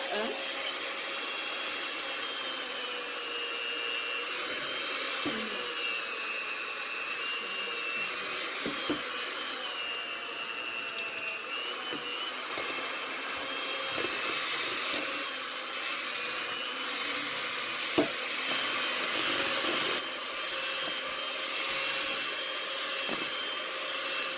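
A kitchen blender runs on its lowest speed, mixing the ingredients for a homemade lightening and toning face cream, giving a steady, even motor whir that continues alone for the whole stretch.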